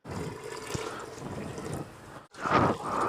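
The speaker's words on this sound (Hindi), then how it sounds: "मैं इसमें 2 गिलास पानी ऐड करूँगा" Two glasses of water are poured into a simmering black chana curry, splashing and gurgling steadily close by, then a short pause and a louder second pour.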